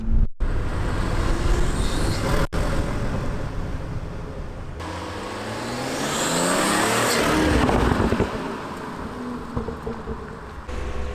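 A salvage BMW 340i engine on its first test drive, heard from inside the car: a steady road drone that swells into a rising acceleration, then eases off, with a couple of sharp knocks along the way.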